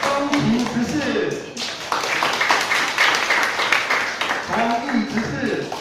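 Steady clapping from a church congregation at a Taiwanese-language Presbyterian service welcoming newly elected deacons, a continuous mid-level patter of many hands that briefly dips, with a voice speaking over it.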